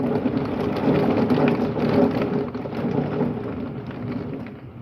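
A severe thunderstorm pours heavy rain with marble-sized hail and mild wind gusts, a dense continuous hiss and patter with low rumbling throughout, no voices.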